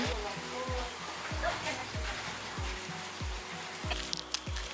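Steady rain patters and hisses on surfaces at Kaziranga, Assam, India, with a repeated low thumping beneath and faint distant voices.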